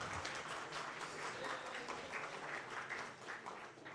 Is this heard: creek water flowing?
no